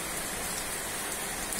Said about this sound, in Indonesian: Itu karena pada malam hari ini hujan deras untuk Tulung Agung.